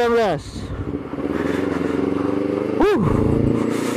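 A motorcycle being ridden, its engine hum and wind buffeting running steadily close by, with two sharp rising-and-falling tones from passing traffic or horns cutting in near the start and again near the end.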